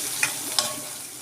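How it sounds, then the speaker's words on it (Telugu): Onions frying lightly in a pan for tomato dal, a soft continuous sizzle with two quick scraping stirs of the spoon, close and alone. "ఆనియన్ ఎక్కువగా ఫ్రై కావద్దండి"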